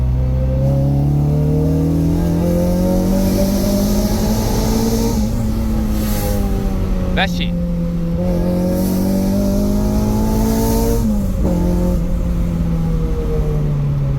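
A Honda K24-powered car accelerates through the gears in a pull test, its engine note rising loud and close in long sweeps with short breaks at each shift.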